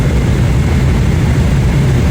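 Steady, loud, broadband roar of an airliner cabin in mid-flight, a constant low engine and airflow drone with no breaks or voices.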